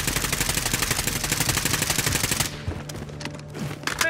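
Gunfire in Call of Duty: Modern Warfare: a rapid, loud burst of automatic fire for about two and a half seconds, then scattered single shots and distant pops.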